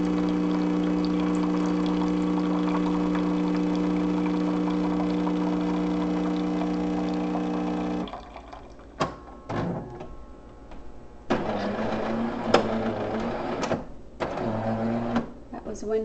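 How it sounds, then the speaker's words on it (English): A Jura super-automatic commercial espresso machine brewing a shot gives a steady, loud humming drone for several seconds, then stops and gives way to clunks and short mechanical knocks. "using the Jura Super Automatic. Commercial machine"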